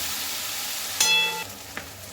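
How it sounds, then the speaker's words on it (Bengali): Prawns being fried for a jackfruit and prawn curry sizzle in hot oil with a steady frying hiss throughout, broken by a brief metallic clink partway through. "এবারে আমি এটাকে ভেজে নামিয়ে নিচ্ছি"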